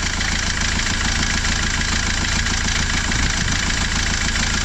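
Car engine idling loudly and steadily up close with a suspected timing chain fault, giving a constant rumbling drone with a faint rough scraping texture and no talking.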